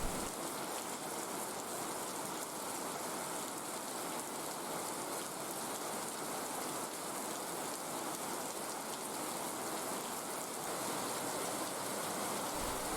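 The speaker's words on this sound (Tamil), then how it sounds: "இப்போ வந்துட்டு மறுபடியும் மழை பெருசாக பெய்ய ஆரம்பிச்சிருக்கு" Heavy rain pours steadily in Kerala, a dense, continuous hiss of drops on surfaces at close range with no pauses.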